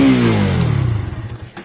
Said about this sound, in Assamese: ইঞ্জিন সুইচ স্টাৰ্টিং কৰিব লাগিলে ইয়াতে দিও আৰু সাউন্ডটো আমি